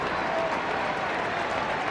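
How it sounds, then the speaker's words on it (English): A large stadium crowd at the 2012 Leinster senior hurling semi-final between Kilkenny and Dublin roars steadily as Tommy Walsh is substituted, a dense, continuous wash of cheering and clapping with no break. "big cheer for Tommy Walsh going off"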